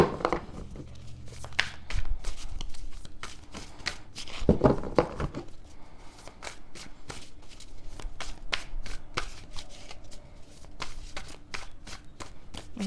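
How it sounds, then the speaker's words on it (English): Tarot cards being shuffled by hand in a quiet room, a steady run of soft riffling and sliding card sounds with brief bursts, no voices. "Shuffle with a little more intention here."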